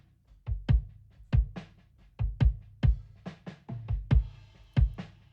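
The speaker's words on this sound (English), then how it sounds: "Here's what the kick sounds like, the kick in and kick out." An isolated kick drum track for a song, blending kick-in and kick-out mics: deep punchy thumps with sharp beater attack in an irregular rock pattern, close and dry.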